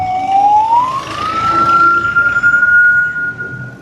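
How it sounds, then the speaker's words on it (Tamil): Ambulance siren on a road in Maruthanamadam, Jaffna, near a crash scene, a loud steady wail that rises in pitch and holds as the vehicle passes close by, with traffic rumble underneath and no talk. "இந்த பாருங்க ஆம்புலன்ஸ் போகுது"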